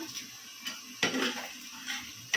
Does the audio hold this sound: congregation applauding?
no